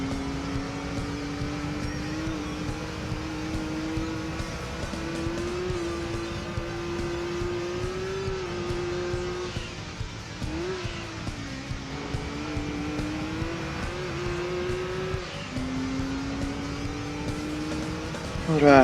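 Race cars in Gran Turismo 2 roar steadily through a hairpin, one engine note rising and dipping as it shifts, with a dense, continuous drone that stays close and loud.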